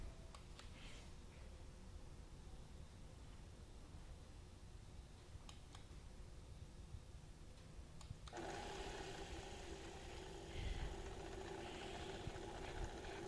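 A wind erosion lab instrument, a wind tunnel, runs with a steady, faint mechanical hum. Partway through, its speed is increased and the sound jumps to a noticeably louder, brighter rushing whir that holds steady.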